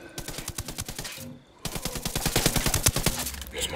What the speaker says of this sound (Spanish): ¡Nos disparan los rebeldes!